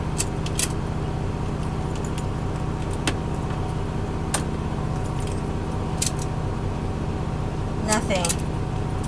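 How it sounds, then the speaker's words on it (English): Keys jangling and clicking near a GMC truck's ignition while someone tries to start it, a few sharp metallic rattles over a steady low hum of the cab, with faint talk in the background. "Gonna try the original keys too."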